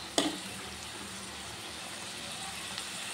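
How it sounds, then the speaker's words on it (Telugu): Curry leaves and green chillies frying in hot oil until golden, a steady broadband sizzle running throughout with a brief sharp crackle near the start, no voices. "కొద్దిగా కరివేపాకు, ఇవన్నీ గోల్డెన్ కలర్ వచ్చేలాగా ఫ్రై చేసుకోవాలి."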